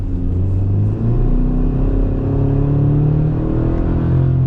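Inside a 2026 Chevrolet Silverado RST pickup with the TurboMax 4-cylinder engine in sport mode, a steady loud engine drone climbs in pitch as the truck accelerates, with a shift partway through.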